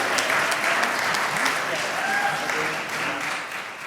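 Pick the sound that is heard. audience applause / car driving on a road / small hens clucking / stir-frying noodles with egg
audience applause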